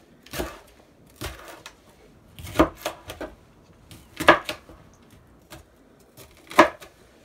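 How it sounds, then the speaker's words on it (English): A green bell pepper is chopped on a cutting board in a home kitchen for Thai chicken curry, about eight sharp knife strikes coming in irregular pairs and singles, close and clear with no talk. "this time I'm chopping that one into thirds"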